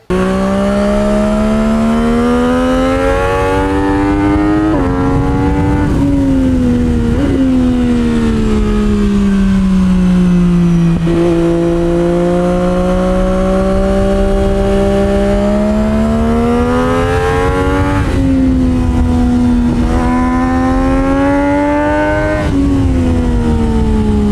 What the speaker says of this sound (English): take a listen at me riding this thing on track and grabbing some tasty downshifts